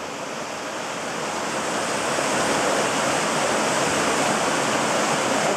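Continuous roar of the river in Linville Gorge at a wading crossing, loud and close, a steady wash of water with no voices.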